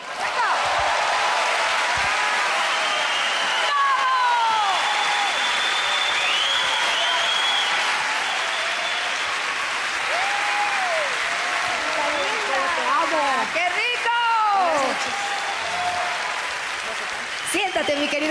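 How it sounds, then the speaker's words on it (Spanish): Audience applause at a concert, sustained, dense clapping from a large crowd that fills the whole stretch at steady volume, with a voice speaking over it partway through and toward the end. "pido un fuerte aplauso para la señora María Medina"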